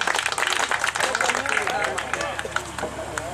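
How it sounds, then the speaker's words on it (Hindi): Audience clapping at a mushaira poetry gathering in Bandi Kala, Mau, a busy spatter of hand claps mixed with crowd murmur and a voice talking over it. "एक जोरदार तालियों से किया जाए।"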